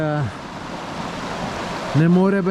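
Water from a mountain spring rushes in a steady, loud broadband hiss, with a voice talking briefly at the start and again near the end over the flow.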